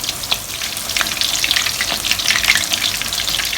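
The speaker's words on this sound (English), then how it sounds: "You need to fry this to a golden brown." Stuffed tofu puffs filled with meat fry in hot oil, giving a continuous crackling sizzle with frequent sharp pops and spatters, close and fairly loud.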